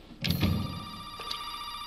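A telephone rings inside the Resident Evil 7 game, played in VR. One short ringing burst is heard and then a fainter second one, with a steady tonal drone underneath.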